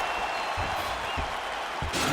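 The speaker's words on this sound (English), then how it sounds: "So the crowd voicing its appreciation after that round" A video-game arena crowd in EA Sports UFC 4 roars in a steady, broad wash of cheering between rounds, with a few dull thuds and a swell near the end.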